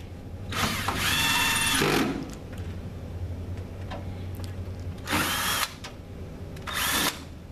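A power drill tightens screws back into a control panel in three separate bursts of whirring, a long first run and two shorter ones, close and clear against a quiet background.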